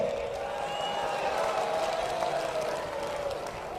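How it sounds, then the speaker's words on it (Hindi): A crowd at a Congress political rally in Panipat claps and murmurs together, a steady wash of applause with a faint tonal hum running beneath it. "ताली बजा रहे हो भैया"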